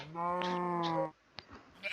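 A sheep in Minecraft gives one short wavering bleat, followed by a few faint clicks and soft rustles.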